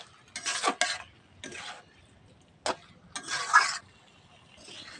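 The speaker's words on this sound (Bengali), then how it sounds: "দিয়ে ভালো করে নাড়াচাড়া দিয়ে নেবে" Egg chhoka with sugar being stirred in a pan, a few intermittent scraping and clinking bursts of a spoon against metal, close and moderate, separated by quiet gaps.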